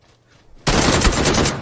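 Loud burst of sustained gunfire in the battle royale game PUBG, erupting suddenly after near silence and continuing as dense rapid shots.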